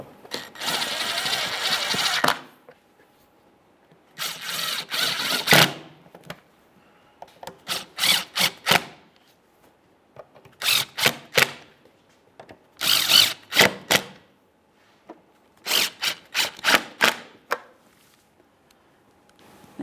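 A power drill snugs the fog light mounting bolts on a 2013-2020 Ford Fusion, whirring in repeated short bursts and quick pulses close by, separated by silent pauses.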